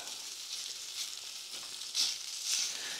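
Fat rendering slowly over very low heat in a pan for a traditional carbonara, a steady close sizzle and crackle with a few brighter spits, no talking.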